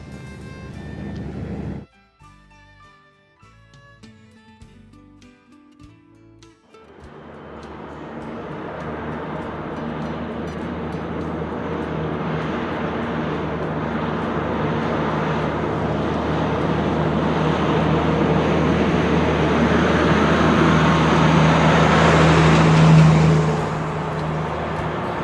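Big George, a monster heavy-haulage truck engine with a pusher truck at the rear, starts after a brief quiet pause and drones loud and steady, swelling gradually with a deep rumble and no talk.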